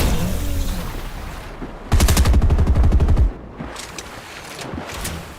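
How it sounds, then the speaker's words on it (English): Automatic gunfire in a Fortnite match, a loud rapid burst of about a second and a half followed by scattered quieter shots amid game noise. "Lots of bullets coming out trying to take care of these builds"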